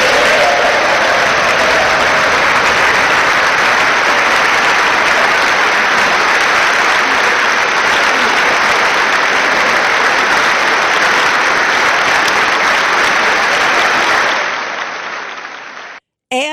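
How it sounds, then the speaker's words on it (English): A large crowd at a formal state occasion breaks into sustained, loud, rousing applause, a dense wash of clapping that holds steady for about fourteen seconds before fading away. "And he got a rousing applause."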